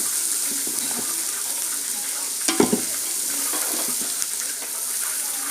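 Chopped green beans sizzle steadily in a hot pan for homemade chicken noodles. The frying hiss stays even throughout, with a sharp clatter of stirring midway and a few lighter utensil taps.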